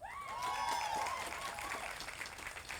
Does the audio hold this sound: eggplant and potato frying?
no